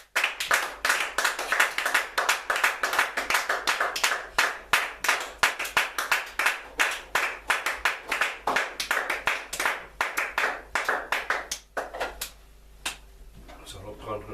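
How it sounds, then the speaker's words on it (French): A church congregation claps in quick rhythmic unison to acclaim God, with loud, close, sharp hand claps running steadily for a long stretch before tapering off, and voices underneath. "Acclamons l'Éternel Dieu."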